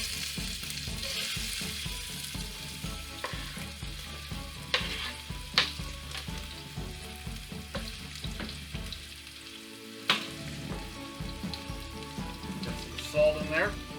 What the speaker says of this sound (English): I'm going to take that, get that sauteing.